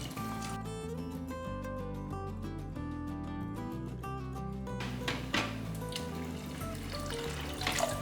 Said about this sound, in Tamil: இதை முழுகிற அளவுக்கு தண்ணி ஊற்றிக்கலாம்